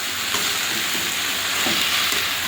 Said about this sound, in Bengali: এবারে ভালো করে কষে তরকারিটা করে নেব।